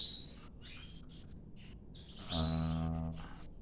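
Young birds chirping near hatching time, high thin tweets in short bursts followed by a louder, harsher call with a buzzing tone, close by and without talking.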